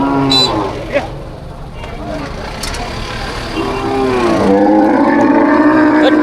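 Cattle low and bellow close by at a livestock market, mixed with people talking nearby and some vehicle noise in the background.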